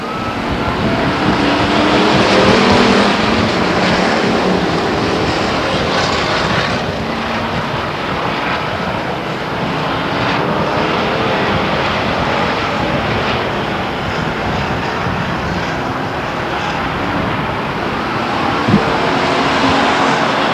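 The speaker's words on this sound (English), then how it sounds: "we got race cars all over the racetrack" Race cars at Stockton 99 Speedway roar around the oval in a steady, loud engine drone that swells and fades slightly as packs pass, heard from the stands.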